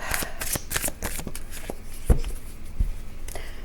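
Tarot cards are shuffled by hand for a reading, a dense run of close riffling and flicking slaps lasting a few seconds, with two sharper taps near the end.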